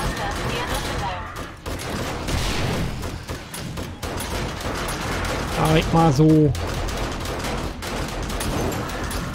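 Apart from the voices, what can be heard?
grenade explosions and gunfire in video game 7 Days to Die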